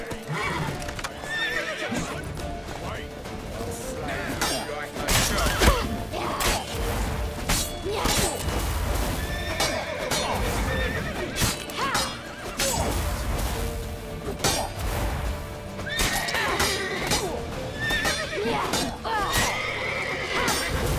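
Horses neigh and hooves clatter amid crashes and smacks in a busy battle in The Witcher 3: Wild Hunt, with occasional voices over the din.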